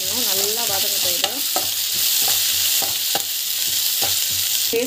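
Chana dal with ginger garlic paste sautéing in a pan gives a steady, loud sizzle, broken by regular scraping strokes of a stirring spoon close up.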